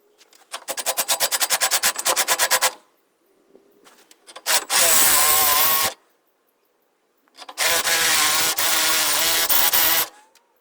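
A step drill bit bores through metal to fit a stabilizer bolt on a 1997–2001 Jeep Cherokee, running in three loud bursts: a fast chattering stretch, a short rough grind, then a longer harsh grinding pass with pauses between them.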